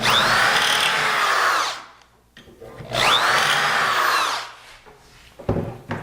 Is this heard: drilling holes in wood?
yes